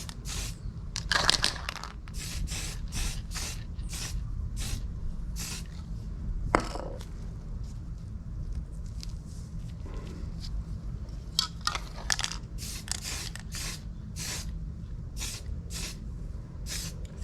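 White base-coat spray paint misted outdoors onto small fishing jigs, heard as a quick series of short, sharp hissing bursts with brief pauses between them, close and moderately loud.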